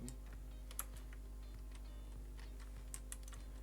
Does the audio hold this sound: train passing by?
no